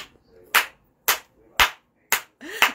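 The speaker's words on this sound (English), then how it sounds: "I'm clapping for myself, okay?" Five sharp, loud hand claps spaced about half a second apart, each a crisp burst standing alone against near silence, from one person clapping for themself.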